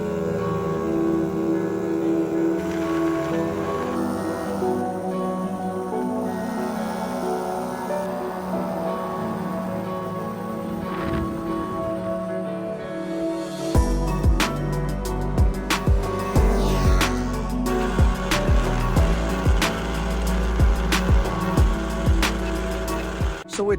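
A Puch Maxi moped is ridden, its small engine droning steadily and close. Partway through it turns rougher and louder, with wind buffeting and scattered rattles and knocks.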